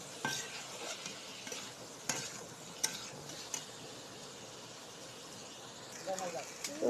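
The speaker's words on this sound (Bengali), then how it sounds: "আমি নুন হলুদ দিয়ে দিয়েছি, দিয়ে একটু ভাজা ভাজা করে নেবো" Vegetables seasoned with salt and turmeric sizzle quietly in a home kitchen pan, with scattered sharp clinks and scrapes of a spatula stirring against the metal.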